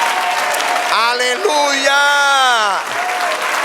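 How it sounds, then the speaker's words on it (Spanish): A church congregation claps loudly and continuously in a steady wash, while a voice sings out over the applause near the middle. "Dale aplauso ahora al Señor."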